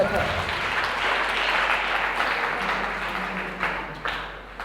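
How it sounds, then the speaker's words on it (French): A church congregation at a community seminar applauds the Lord with sustained, dense clapping and cheering voices throughout, loud and steady and easing slightly toward the end. "Acclame encore le Seigneur."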